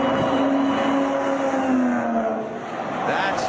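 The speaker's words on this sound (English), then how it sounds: "That's another car starting up." A car engine starting and revving at the Pocono racetrack, a loud sustained drone with a rising then falling pitch close by, fading briefly before picking up again.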